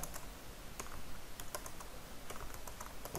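Article text typed on a computer keyboard produces irregular, close key clicks at a moderate pace, some in quick pairs, over steady low room noise with no voices.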